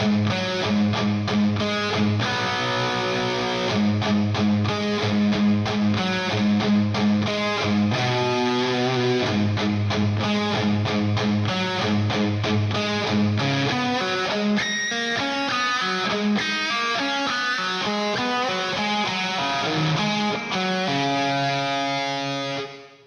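Distorted electric guitar plays a fast riff in straight, even time, a steady unbroken stream of rapid picked notes with no talking over it.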